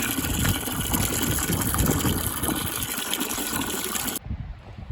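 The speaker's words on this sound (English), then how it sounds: "The water coming out of here is not very clean again." Dirty rinse water from washing butternuts pours and gushes steadily from an outlet, close and continuous, then cuts off abruptly near the end leaving quieter background.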